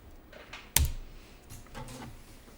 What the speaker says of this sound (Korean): 이렇게 다 타이핑을 해주면 됩니다.